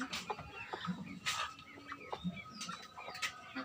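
Hens with their young chicks cluck and peep in short, scattered bursts, fairly faint and close by, with no talking over them.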